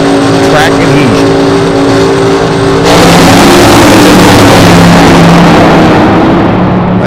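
Two drag racing cars launch down the track at a Las Vegas drag race, a loud, sustained engine roar that surges sharply midway as they accelerate away, with a crowd and commentary mixed in.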